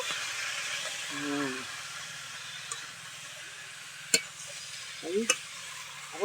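Cooked cabbage being stirred and mixed in a pan with Gobindobhog rice, making a soft scraping, sizzling stir with a few sharp utensil clicks, while a voice talks intermittently.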